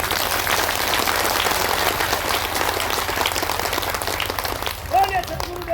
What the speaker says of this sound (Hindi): एक बार सभी लोग तालियां बजाएं।